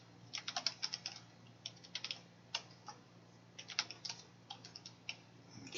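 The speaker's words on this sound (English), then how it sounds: "I'm bad at typing today" Someone types on a computer keyboard at a quiet, close range, producing irregular bursts of light key clicks with short pauses between words, and no voices.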